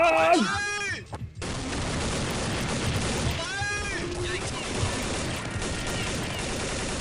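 Counter-Strike 1.6 gunfire and a grenade explosion crackle densely, with swooping electronic tones and a busy, noisy backdrop.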